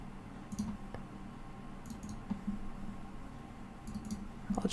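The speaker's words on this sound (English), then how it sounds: "I'll just double click on it." Faint, sharp computer mouse clicks come in quick pairs at irregular intervals during work in CLO3D pattern software, quiet against a soft room hiss.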